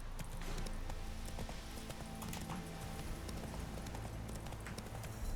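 Roach, a horse in The Witcher 3, trotting with steady, even clip-clop hoofbeats close by, continuous under faint ambient game sound.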